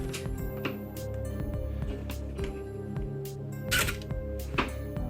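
A Canon A-1 film camera shutter fires at 1/250 during a speed test, giving a crisp mechanical click and a sharp transient among several faint handling clicks over a steady low hum.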